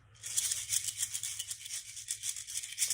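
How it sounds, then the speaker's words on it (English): Maracas shake in a steady, quick rhythm, a bright rattling hiss of beads pulsing close by with no voices. "So those are the maracas."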